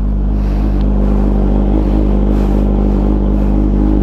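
A Kawasaki H2 Carbon supercharged sport motorcycle engine drones loud and close at steady high revs for the whole stretch, a dense continuous roar with no talking.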